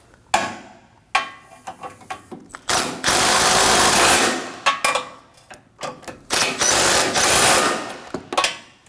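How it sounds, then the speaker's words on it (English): A power tool drives two 12mm bolts on a Kia Optima front bumper impact absorber, in short loud whirring bursts separated by clicks and pauses, with a few longer runs close by. "Snug up the two 12mm bolts."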